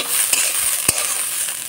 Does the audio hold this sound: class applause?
no